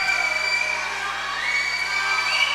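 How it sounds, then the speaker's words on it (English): Spectators at a college swimming and diving meet between Tufts and Wheaton cheer and shout around an indoor pool, a steady, dense roar of crowd noise with high children's shouts and whoops, echoing and continuous throughout. "just about everybody trying to cheer on these swimmers around the pool here"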